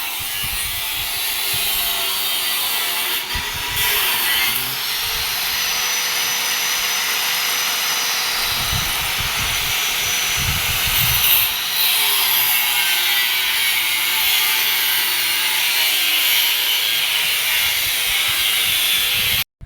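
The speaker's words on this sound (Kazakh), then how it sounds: "Резакпен, болгаркамен жұмыс істейміз осылай." An angle grinder and a cutting torch work on metal in a village yard, giving a continuous loud, high, hissing whine with rough scraping bursts that swell and ease throughout.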